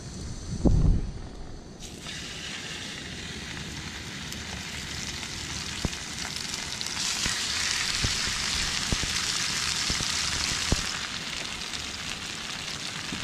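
Steaks fry in lard in a pan with a steady, close sizzle and hiss that holds throughout, with a few sharp pops and spits now and then and no talking over it.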